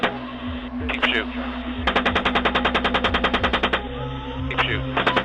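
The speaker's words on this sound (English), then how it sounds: "Keep shooting." Loud machine gun fire in sustained rapid bursts, one long regular string of shots plus shorter bursts before and after, heard over a constant engine-like drone.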